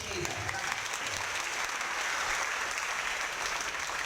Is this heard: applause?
yes